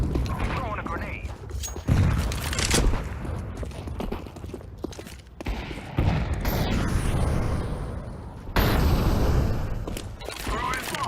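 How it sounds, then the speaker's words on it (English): Flashbang and grenade blasts in a tactical shooter video game, several loud booms and bursts of gunfire spread across the clip, with a player talking over the action. "Throwing a flashbang. Set this place on fire. Throwing a grenade."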